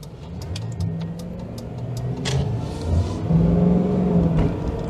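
A 2001 Ford Crown Victoria pulling away on the road and struggling for traction, its engine rising from a steady hum to a louder, sustained rev heard from inside the car.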